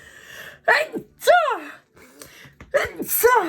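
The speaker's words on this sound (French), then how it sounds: "Je suis désolée, je vais éternuer." A woman makes a couple of sharp, sneeze-like bursts in quick succession, close and fairly loud, with short pauses between them.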